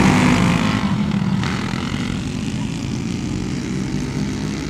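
Racing karts accelerate hard down the back straight of a kart track, a loud, steady engine drone that fades slightly as they pass.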